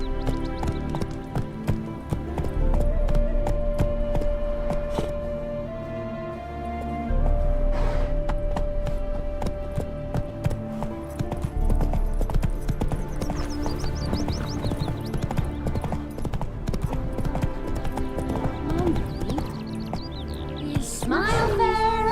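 Roach the horse's hooves clip-clop in The Witcher 3: Hearts of Stone, a steady trotting rhythm running beneath sustained music, with a brief whinny near the end.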